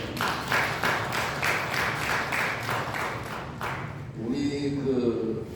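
Members of a Sunday church congregation give a short round of encouraging applause, with distinct claps for about four seconds before the clapping stops and a voice begins speaking.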